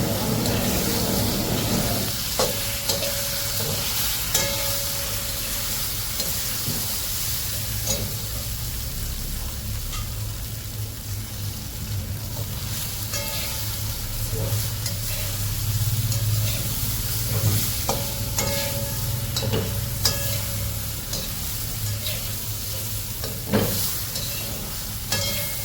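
Steamed khaman is tempered and stirred in a hotel kitchen, with a steady sizzle running under continuous stirring, scraping and occasional clinks.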